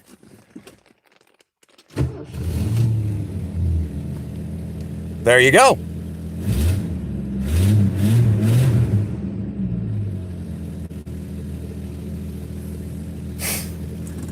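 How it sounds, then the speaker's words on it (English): A budget project hot rod engine cranks and catches, then settles into a rough, uneven idle with a brief rev, close by, while someone speaks briefly over it. "We'll come back to her engine running here in just a minute"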